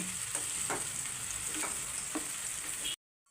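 Tomato masala sizzles steadily in a pan as it sautés, with a few soft scraping stirs over the constant frying hiss, which stops abruptly near the end.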